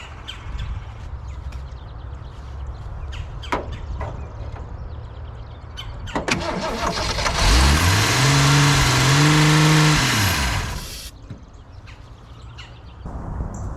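A 1961 Mercury straight-six engine that had been seized cranks and fires up, catching after a few seconds and revving loudly for several seconds before settling into a steady run, with birds and crows calling in the background.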